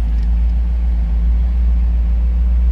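Close and loud, a 1984 Chevrolet Camaro Z/28 with a high-output 305 V8 idles in a deep, even rumble that holds steady throughout with no voices.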